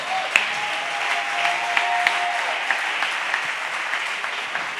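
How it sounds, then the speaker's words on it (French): A church congregation at a French-language thanksgiving service breaks into sustained, steady applause, a dense wash of many hands clapping evenly throughout with a few sharper claps standing out and no speech. "Acclamons bien le Seigneur"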